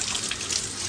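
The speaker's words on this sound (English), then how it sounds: "And the water's coming out." Water gushing out in a brief, steady rush with a bright hiss, heard on its own without voices.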